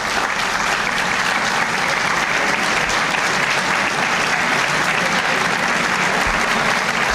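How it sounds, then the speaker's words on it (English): Sustained applause from an audience at a 1990 New Jersey state budget address fills the clip, a dense, even wash of many hands clapping at constant loudness from start to finish, with no voices. "the cabinet is reluctantly applauding"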